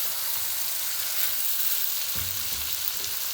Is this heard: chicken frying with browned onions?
yes